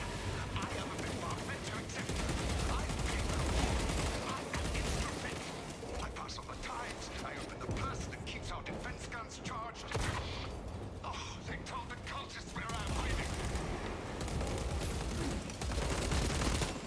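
A plasma incinerator gun firing in the Warhammer 40K Space Marine 2 video game, dense crackling bursts and heavy combat noise running continuously, with voices talking over the action.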